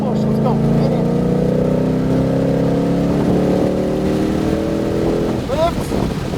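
A Shelby GT500 accelerates hard on a racetrack, its engine note rising steadily in a loud, continuous roar that climbs in pitch over several seconds before easing, with an instructor's voice talking over it.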